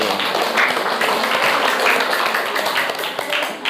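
Dense, steady applause from students in an eighth-grade Islamic education classroom, clapping for a classmate without pause for nearly four seconds at close range.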